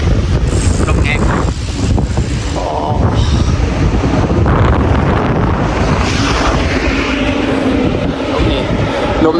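Strong wind buffeting and roaring across the microphone while cycling alone on the road, a loud continuous rumbling rush with gusty swells throughout.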